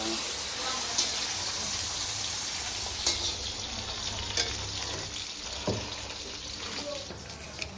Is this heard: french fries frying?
yes